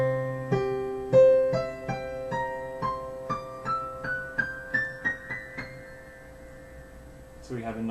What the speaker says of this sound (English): So the viola's low C spectra sounds like this.